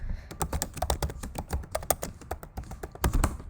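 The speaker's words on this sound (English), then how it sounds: "Typing ASMR." Rapid, uneven clicking of a computer keyboard being typed on, close and crisp, with no voices.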